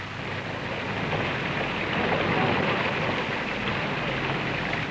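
Steady rain falls on a paved town square in Crawley, a broad even hiss of drops with no distinct voices, holding at a moderate level throughout.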